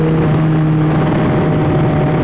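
A Honda CBR600F motorcycle with a full decat exhaust runs at speed, a loud, steady engine drone with a strong constant hum and wind rush, no voices.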